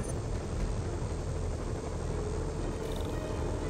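Helicopter flying overhead in the video game Marvel's Spider-Man, a steady, loud rotor and engine drone filling the scene without breaks or talk.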